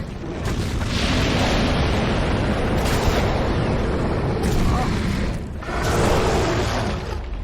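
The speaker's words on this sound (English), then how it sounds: "Firebomb takes some pretty good damage on him." Firebombs burst in the video game Dark Souls, producing broad roaring blasts that swell and fade in overlapping waves, loud and sustained, with short gaps between the bursts.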